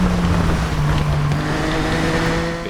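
A motorbike engine in the Isle of Man TT 2 racing game on Xbox One gives a steady, loud droning hum that holds for the whole stretch and eases slightly at the end.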